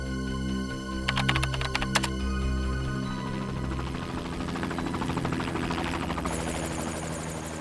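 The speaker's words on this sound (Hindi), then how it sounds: "सर कहीं ये हेलीकॉप्टर की आवाज तो नहीं है?" Helicopter rotor noise in the ambience of a crime scene, a steady low droning whir that builds and thickens over several seconds, with some sharp clicking and tapping early on and no voices.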